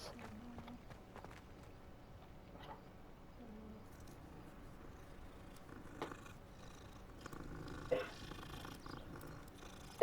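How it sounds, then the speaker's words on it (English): A cat purrs softly in the video game Hogwarts Legacy, a faint low rumble with light footstep-like taps and a few small clicks toward the end. "Cat."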